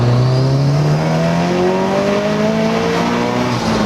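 A turbocharged Scion FRS accelerating hard in second gear from low revs, its engine note rising steadily and loudly with turbo whine, heard from inside the car with no talk.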